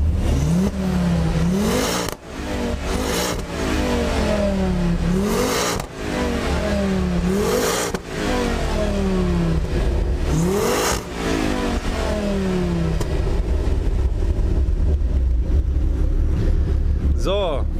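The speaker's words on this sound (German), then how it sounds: "Der Kollege hat verbaut eine Downpipe mit 200 Zellen Cut und" A Ford Focus RS five-cylinder engine fitted with a downpipe and the stock exhaust revs repeatedly in rising sweeps, loud and close, with brief dips between pulls and someone talking over it.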